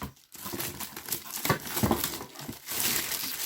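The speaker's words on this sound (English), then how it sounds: "I'm just gonna unwrap it" Plastic packaging around a Cuisinart hand blender crinkles and rustles up close, in continuous bursts of crackling and crumpling with a brief pause near the start, without speech.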